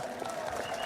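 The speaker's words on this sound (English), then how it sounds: "Clap louder if you did more." Clapping from a crowd at a Singapore election rally for the Progress Singapore Party in Marymount, a brief steady burst of applause filling the space with a faint voice beneath it.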